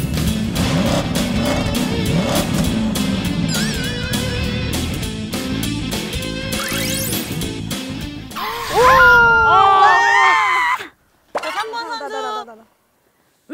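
Race car engine revving and tyres sliding on a snowy track, a continuous loud engine roar with rising pitch sweeps, laughter and voices from people over it, then brief gaps of near silence.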